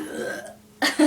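A short, gulping burp in a burping contest comes in two quick close bursts right after a brief stretch of talk.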